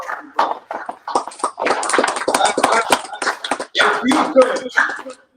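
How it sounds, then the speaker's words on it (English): A small group claps for a student in a classroom-style session; uneven, close clapping comes in separate bursts with pauses, and voices and chatter mix in around it. "Clap it up for the brother."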